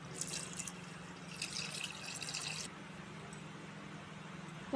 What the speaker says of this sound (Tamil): 1 கிலோ அரிசிக்கு தேவையான தண்ணி சேர்த்துக்கலாம்.